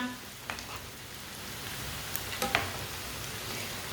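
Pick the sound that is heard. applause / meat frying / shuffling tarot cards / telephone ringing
meat frying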